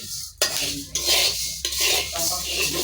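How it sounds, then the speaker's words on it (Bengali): Dry kalai lentils (black gram) roasted in a pot on a gas stove, giving a close, continuous rattling scrape of stirring with metal clinks against the pot, no voices. "কলসি কালাই ভাজা করছি"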